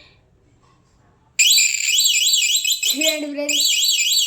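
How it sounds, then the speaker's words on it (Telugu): A small electric buzzer powered by an HW battery suddenly sounds a loud, shrill, warbling alarm tone that rises and falls continuously, close and piercing, after a brief quiet spoken line. "ఇప్పుడు వచ్చేసి బజర్ ఎలా సౌండ్ వస్తుందో మీరు చూసేయండి"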